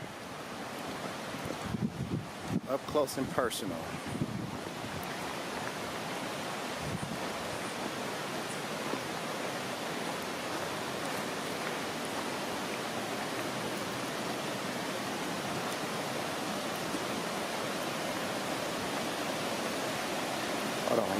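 The Mindo River rushes in a steady, loud, broadband roar heard up close, with a few brief knocks and handling sounds early on and a short spoken phrase near the start.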